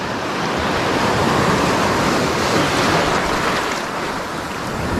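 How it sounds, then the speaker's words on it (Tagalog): Steady, loud ocean waves and surf rushing continuously, with wind buffeting the microphone, heard from a small fishing boat at sea. "Yung may alon pa."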